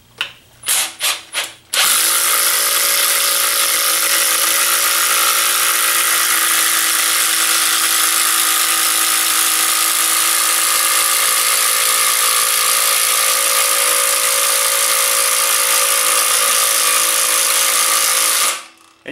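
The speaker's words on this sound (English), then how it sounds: "I'm going to go ahead and drill some holes with this now" A Milwaukee M18 FUEL 2653-22 impact driver on speed setting 3 bores a hole with a speed bore bit, with a few short trigger bursts followed by a loud, steady, rattling hammering drone lasting about seventeen seconds before stopping.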